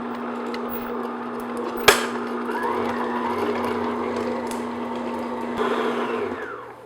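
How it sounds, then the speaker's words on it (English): An electric mixer beats butter on medium speed for mincemeat shortbread bars, giving a steady, close mechanical whir with one sharp knock partway through and a slight change in pitch near the end. "So I'm just going to beat this on medium speed just to get it nice and creamy and smooth."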